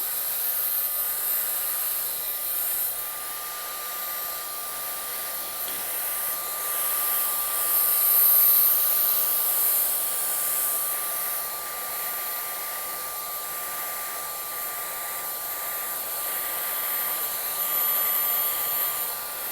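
A hair dryer blow-drying hair after a barbershop comb-over fade cut, a loud, steady high-pitched whine and rushing airflow that runs unbroken from start to finish, close to the listener with no talking.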